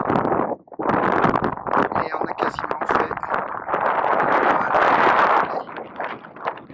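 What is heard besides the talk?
strong wind on microphone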